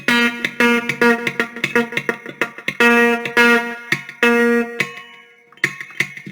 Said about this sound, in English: this is also crucial to the chicken picking technique, which you'll hear some muted notes there